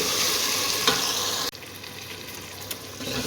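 Fresh spinach goes into a pan of potatoes, setting off steady frying and sizzling with stirring, loud and close; a brief scrape near the midpoint then a quieter, continuous sizzle.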